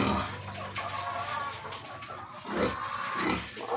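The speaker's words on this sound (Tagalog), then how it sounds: "Dagko na mga baboy." Pigs on a small farm grunting and snuffling close by, a rough continuous texture with a couple of louder swells near the end.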